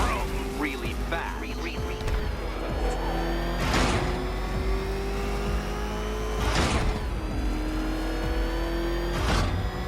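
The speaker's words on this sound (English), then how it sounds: "Let's put that grotesque ego-mobile to the test. Be ready, Dark Knight. There's more to this test than just going vroom, vroom, really fast." Batmobile engine in the Batman: Arkham Knight video game, a steady loud motor drone with several swelling rev bursts and whooshes over a game soundtrack, with in-game voices talking over it.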